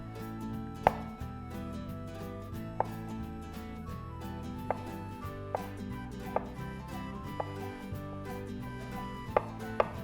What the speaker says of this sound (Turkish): ufak ufak doğrayacağım